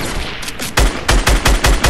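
Assault rifle gunfire from a legendary SCAR in Fortnite sounds as a loud, close, rapid run of sharp shots, a blurred burst followed by a string of about six distinct evenly spaced cracks.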